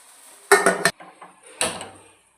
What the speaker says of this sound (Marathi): आता आपण भांडं गॅसवर ठेवूयात.